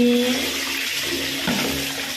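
Warm water runs continuously from a tap during a baby's bath, a steady splashing rush with a low hum underneath and a slight change in flow midway.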